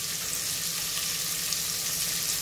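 Chicken tinola with ginger sautés in a pan, a continuous close frying sizzle with a low steady hiss and no talking.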